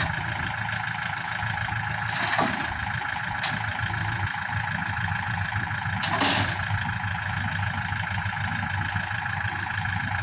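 A Kubota 47 hp tractor engine idles with a steady low rumble and even mechanical hum, heard close and continuous with a couple of brief clanks.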